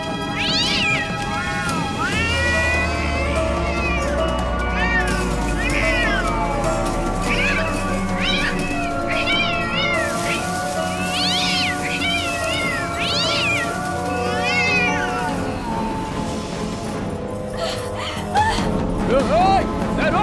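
A cat meows repeatedly in drawn-out, rising wails over a steady background drone and music, with people speaking in between, in a scene from a Hindi-dubbed horror film.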